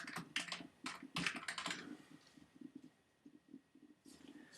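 A map title typed on a computer keyboard: quiet, quick clusters of key clicks in uneven bursts with short pauses, close and soft, with no voices.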